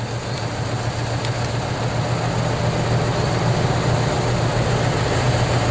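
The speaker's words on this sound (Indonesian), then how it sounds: "Nah, ini kondisi pertama mesin hidup seperti ini." Car engine idling on a cold first start before a carbon clean tune-up, a steady low hum and rumble heard close with no talk.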